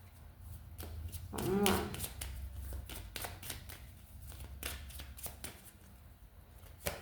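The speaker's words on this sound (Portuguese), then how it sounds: "Olha, eu vou pegar, vou embaralhar." Tarot cards being shuffled up close in rapid papery riffles and slaps, with someone speaking briefly near the start.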